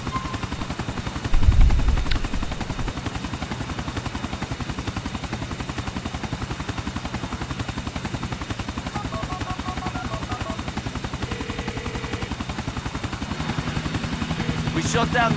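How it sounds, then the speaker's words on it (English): Helicopter in the Grand Theft Auto video game under fire, its rotor thumping steadily and loudly throughout, with a burst of gunfire near the start and game music and effects toward the end. "We shut down that chopper for you."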